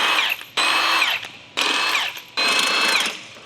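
Pneumatic or electric impact tool spins wheel fasteners off a Porsche 992 Carrera, three loud sustained whirring bursts separated by short pauses, close up with no talk.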